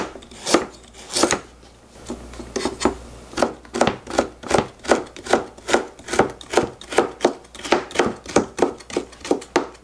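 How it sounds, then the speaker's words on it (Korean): A knife chops burdock and carrot for kimchi on a board, a quick run of sharp, evenly spaced strikes, close and fairly loud, with a short pause early on before the steady rhythm resumes. "이렇게 좀 송송 썰어주시면 돼요."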